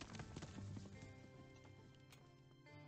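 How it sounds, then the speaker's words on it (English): Horse hooves clip-clopping in the video game Above Snake, a dense run of quick rhythmic thuds at close range over a busy game soundscape lasting a few seconds. "Saddle up the horse and let's go."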